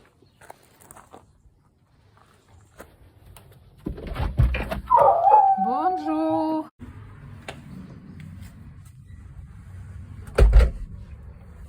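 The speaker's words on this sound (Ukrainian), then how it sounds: "Ось класна собака." A lively, active dog gives a short burst of whining, yelping cries midway, close by, set against quiet outdoor background noise with a thump near the end.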